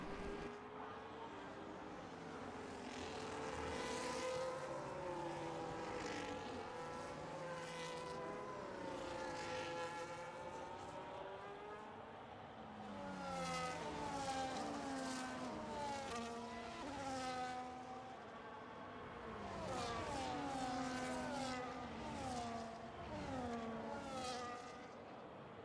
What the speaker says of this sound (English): I'll let you guys listen to this noise of the safety of these cars behind the safety car for a little bit